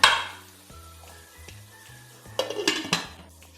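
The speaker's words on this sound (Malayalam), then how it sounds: "പാവയ്ക്ക ഇട്ട് നന്നായിട്ടൊന്ന് എല്ലാം കൂടെ ഒന്ന് യോജിപ്പിച്ച് കൊടുത്തിട്ട്" Bitter gourd pieces tossed through a spiced mixture in a pan, giving soft scraping and stirring with a light sizzle, then a louder burst of clattering utensil-on-pan knocks near the end.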